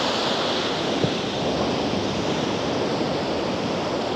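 Ocean surf washing up onto a sandy beach while fishing at the shoreline, a continuous broad hiss of water rushing in and draining back, steady and fairly loud with some wind noise, no voices.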